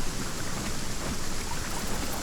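Steady rain pours in the survival game Aska, a dense, even hiss of drops on surfaces that holds at the same loudness throughout, with no voices.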